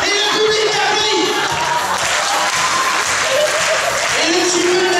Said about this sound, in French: Et le public applaudit.